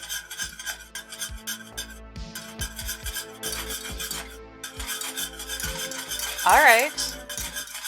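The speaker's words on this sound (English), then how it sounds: "This is going to bubble up. Steamy. Definitely want to whisk with a longer handle for this." A whisk stirs a hot, bubbling, steaming cake mixture in a pot, with repeated scraping strokes and clinks against the metal and a brief louder burst near the end. A voice speaks briefly.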